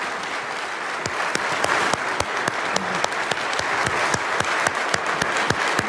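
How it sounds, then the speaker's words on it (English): Members of Congress applaud Zelensky's address in a large chamber, a steady roar of many hands with distinct louder individual claps punctuating it at a brisk, fairly regular pace. "he got thunderous applause from a lot of Congress"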